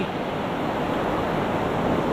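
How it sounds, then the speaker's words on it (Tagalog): Rapidly rising floodwater rushes down a river in a heavy flood, a loud, dense, continuous roar of churning water with no voices. "Ang bilis na tumaas ang tubig."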